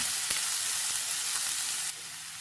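Green chillies frying in a pan, a continuous bright close sizzle with a few sharp pops and clicks, steady throughout with no talking.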